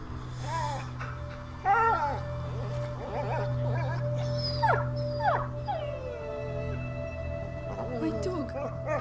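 A dog in A Plague Tale: Innocence whimpers and yips in a run of high, wavering whines over a steady low game drone, with a quieter voice now and then.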